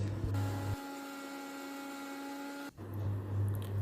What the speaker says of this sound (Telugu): ఇవి కూడా బాగా మెత్తగా మనం గ్రైండ్ చేసి పెట్టుకోవాలి